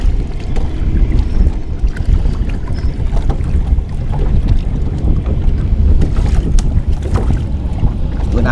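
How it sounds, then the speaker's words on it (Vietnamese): Strong wind roars and buffets the microphone on a small river fishing boat, a steady loud rumble with gusty crackle throughout and no talk. "gió quá trời gió luôn"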